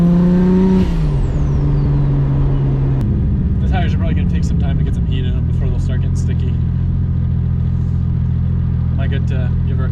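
A 700-horsepower Nissan R32 pulls on a public street, its engine droning loudly and steadily close by, with a sharp shift early on and faint voices over the rumble.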